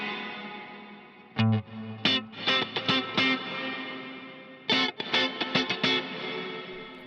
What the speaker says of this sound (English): you're gonna hear that I'm gonna hit the transient, and then the reverb takes that long to start